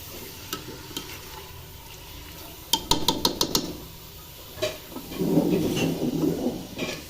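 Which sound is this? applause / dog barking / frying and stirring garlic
frying and stirring garlic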